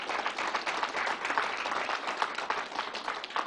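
An audience at a New York State fairground vaccination site applauds the staff and National Guard, a brief steady burst of many hands clapping, moderately distant.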